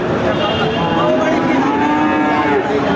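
A cow lows loudly and close by at a busy cattle market in Chaugachha, Jessore, one sustained moo over the crowd's steady background murmur.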